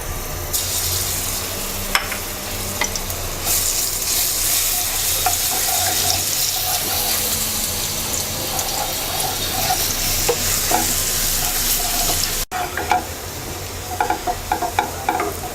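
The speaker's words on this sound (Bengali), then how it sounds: "তেলটা গরম হয়ে গেছে, দিয়ে দিচ্ছি 3 কোয়া রসুন কুচি" Minced garlic hitting hot oil in a wok, a strong continuous sizzle and crackle up close with occasional clinks and stirs, no talking over it.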